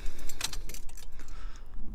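Keys for a Toyota Aygo jangle close by as they are pulled from a pocket, a bright burst of metallic clinks and rattles that shakes for about two seconds.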